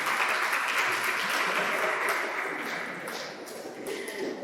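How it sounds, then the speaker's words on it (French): Students and spectators at a school quiz semifinal in Odienné clap in a dense, continuous burst of applause, loud and even at first, easing slightly before swelling again at the end. "Applaudissez pour moi."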